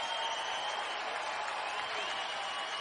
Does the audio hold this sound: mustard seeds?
no